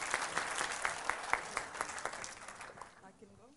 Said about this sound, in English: a big round of applause for our girls